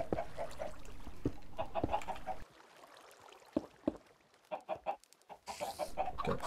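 Chickens in a backyard coop clucking and squawking in bursts, nearby and moderately loud, with a brief quieter gap before the clucking resumes.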